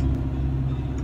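A BMW M2 CS race car engine idles on the grid in Assetto Corsa Competizione, a steady low rumble held close and even throughout.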